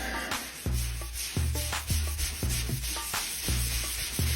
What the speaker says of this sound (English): Sand with a wet sponge.